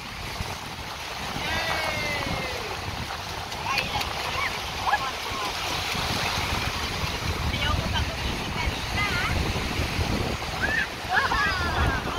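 Ocean waves wash and surge continuously with wind buffeting the microphone, while people talk intermittently in the background.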